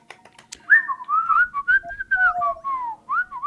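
Someone whistles an imitation of the R2-D2 droid, a run of quick warbling, sliding chirps and bleeps close to the mic, with a few clicks just before it starts.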